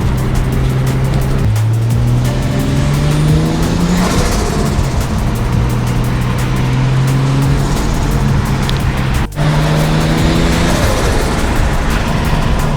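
R33 Nissan Skyline with a turbocharged RB25DET engine driven hard, its steady loud engine drone rising and dropping through gear changes, with turbo flutter bursts on lift-off and a sharp break near the end.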